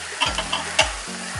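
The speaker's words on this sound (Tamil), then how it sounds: "நான் வந்து இன்னொரு தோசை ஊற்ற போகிறேன்" Dosa batter sizzles and fries on a hot pan, a steady close crackling hiss broken by a few scraping stirs, with no talking.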